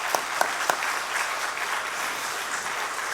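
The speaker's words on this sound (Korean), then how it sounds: "우리 아이들에게 힘내라고 한번 박수를 좀 쳐줬으면 좋겠습니다." A church congregation claps to encourage the children, beginning with a few sharp separate claps before settling into steady, moderately loud applause from the whole room.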